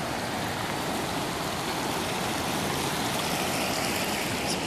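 Floodwater from the 2013 Big Thompson flood rushes steadily through a park on the south side of Loveland, with a dense, even roar and no voices.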